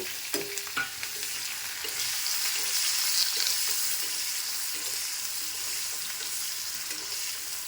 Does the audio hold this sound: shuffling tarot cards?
no